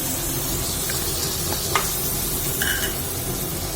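Onions and ground masala paste frying in a pan for coriander leaf pulao, a steady loud sizzle with a few faint clinks and stirring scrapes.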